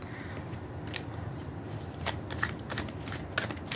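Tarot cards shuffled and drawn by hand: soft, quiet riffling and papery flicks with a few sharper snaps, close up and otherwise calm.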